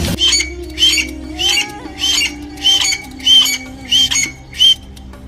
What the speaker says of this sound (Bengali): এই পাখিটি চুপ চুপ চুপ শব্দ করে।